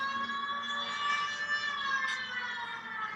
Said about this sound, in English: Use the siren.